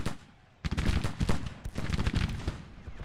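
Cannon and rifle fire from a Civil War strategy game battle: after a quiet half second, a dense, sustained barrage of overlapping gunshots and booms rolls on loudly to the end.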